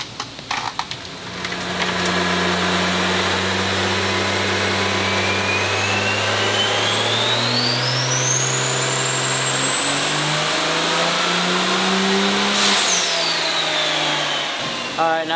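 Engine of a 2000 hp regular cab short bed truck on a dyno run, building from idle into a long, loud climbing pull with a rising turbo whine, peaking near the end before cutting off abruptly.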